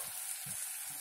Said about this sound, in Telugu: కొబ్బరికాయ ముక్కలు, అల్లం వెల్లుల్లి వేసి ఇది 1-2 మినిట్స్ వేయిద్దాము